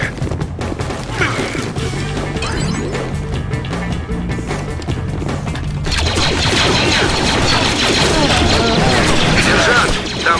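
Rapid bursts of blaster fire in Star Wars: The Clone Wars – Republic Heroes on Ryloth mix with clanks and crashes against droids, with voices under the din, growing denser and louder in the second half.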